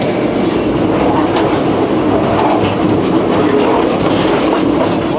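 An Argentine freight train crawls along slowly, its loud, steady rumble and rattle of wagons filling the sound continuously with faint clickety-clack and occasional wheel squeal.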